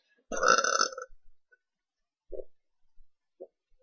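One loud, drawn-out burp after drinking Coke, followed by a few small, faint gulping clicks and tiny belches in an otherwise quiet room.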